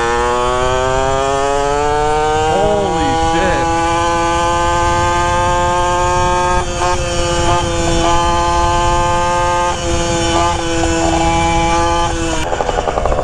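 A 64cc stunt moped engine, running slightly rich, buzzes loud and close in a steady high-pitched drone, its pitch wavering briefly during short throttle blips, with no talking over it.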